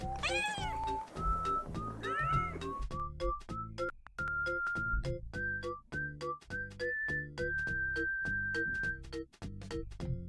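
Someone imitates a cat with a run of vocal meows, one sliding, and meanwhile a steady series of short pitched beeps and thunks plays from a Paper Mario game, fairly close and moderately loud.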